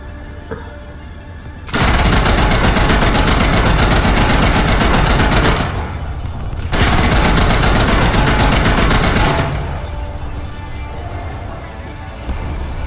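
Two long bursts of rapid, loud autocannon fire from Gepard anti-aircraft guns in War Thunder, each lasting several seconds, separated and followed by a quieter engine drone.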